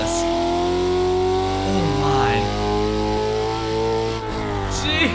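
A 2024 Ford Mustang GT with a 6-speed manual in the Assetto Corsa racing game, its engine droning loudly and steadily with a rising rev sweep midway and a brief dip near the end.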